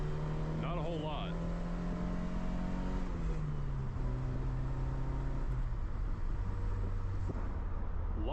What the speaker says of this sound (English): A lot of rev hang. The RPM drops so slowly.